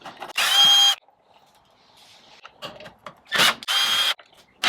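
A power driver with a T30 Torx bit spins out deep-shouldered screws from a motorcycle rear reflector, with two short bursts of whirring separated by quieter fiddling and soft clicks.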